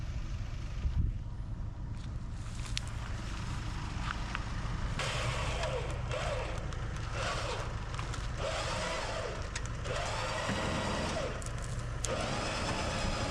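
Winch dragging a crashed Lamborghini with a dented hood along the ground, a continuous loud grinding, scraping rumble with a motor drone underneath, steady throughout.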